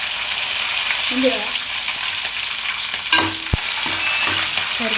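Cashews fry in a spoonful of ghee for Andhra-style masala rice, giving a close, continuous hiss and sizzle with a few spoon scrapes and clinks against the pan; a voice briefly speaks over it.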